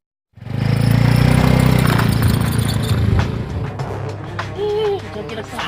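A motorbike engine idles close by with a steady low rumble from start to end, easing slightly in the second half, with faint clatter and background noise over it.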